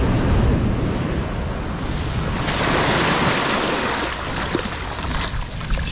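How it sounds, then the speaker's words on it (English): Ocean waves break and wash up on a sandy beach at the Wedge, a steady loud surf roar with rushing foam and some wind buffeting the microphone, with no voices. "Waiting for a wave to come that I can use to rinse my scoop"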